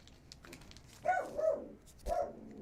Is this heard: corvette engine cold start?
no